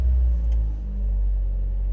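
A Toyota Noah with a faulty automatic transmission gives a steady low engine rumble that idles close by, with a slight dip partway through and no talking.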